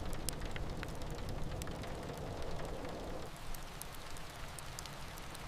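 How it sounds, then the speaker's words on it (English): Heavy rain drums steadily and densely on a metal roof, a loud continuous wash with scattered sharper drops throughout, easing slightly after a few seconds but never stopping, with no voices. "The rain intensified, drumming harder on the metal roof."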